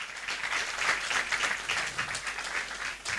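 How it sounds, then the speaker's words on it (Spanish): A church congregation claps for a choir at a special service in La Paz, Bolivia, a continuous, fairly even applause from many people heard at a moderate distance. "Vamos a aplaudir una vez más al coro Nueva Alegría."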